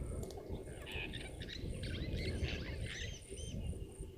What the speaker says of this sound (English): Hear that little tweet that just went on there. Blue waxbills, very common birds here.